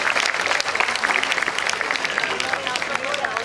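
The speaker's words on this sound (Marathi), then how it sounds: "टाळ्या मात्र बंद नाही झाल्या पाहिजे सगळ्यांनी." Sustained applause from an audience at a municipal best-teacher award ceremony, dense continuous clapping with a murmur of crowd voices underneath, steady and fairly loud.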